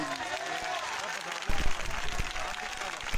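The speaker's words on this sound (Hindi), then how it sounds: "तालियां बजाएं।" Audience applause at a revival church meeting, a broad clapping wash that swells partway through, with voices and a few low thuds from the crowd mixed in.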